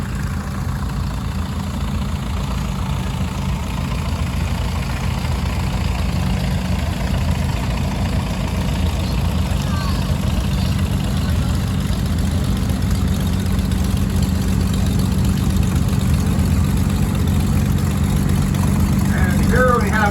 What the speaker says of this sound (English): This is Brent Naylor, a local custom tractor restorer from Springville with his McCormick Deere WA-40.